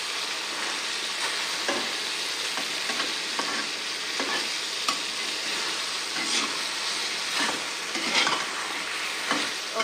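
Ridge gourd pieces stirred in a hot pan for a chutney, giving a continuous dense sizzle with regular scraping strokes of a spoon, close and fairly loud, without any voices.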